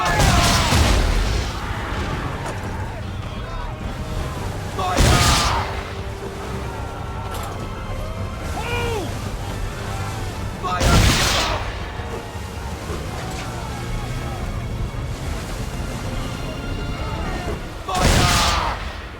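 Ship cannons fire in an Assassin's Creed III naval battle, three deep booming volleys spaced several seconds apart over creaking hull, sea noise and shouted crew voices.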